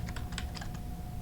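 Quick keystrokes on a computer keyboard form a short, irregular run of close, crisp clicks over a low steady hum.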